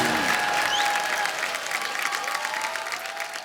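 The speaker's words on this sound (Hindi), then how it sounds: "इसके लिए तो पहले तालियां बनती है।" A studio audience at a comedy show claps loudly and continuously. At the start a brief tonal sound sits under the dense applause, which tapers slightly toward the end.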